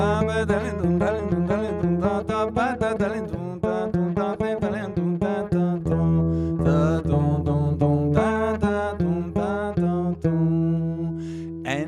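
A lively Eastern European Jewish folk melody on a bright reedy instrument, ornamented and continuous, with steady accompaniment underneath and no voices.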